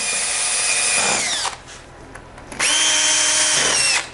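A power drill whines at close range, boring countersunk holes in a wooden jig, in two bursts with the motor winding down between them.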